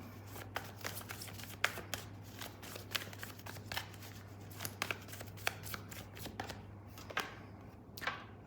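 Tarot cards are shuffled by hand in rapid, irregular bursts of close, crisp riffling and flicks over a low steady hum, with no talk.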